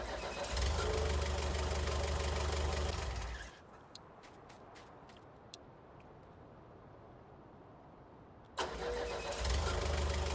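A tractor engine in Farming Simulator 19 runs loud with a deep rumble, cuts out into a quiet stretch with a few faint clicks, then starts again abruptly and roars back up.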